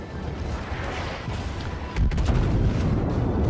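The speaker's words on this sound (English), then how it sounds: "Taking shots from the Rune again." Tier 10 battleship guns fire in World of Warships, a deep booming salvo that bursts in sharply midway over a constant low rumble of engine and ambient battle noise.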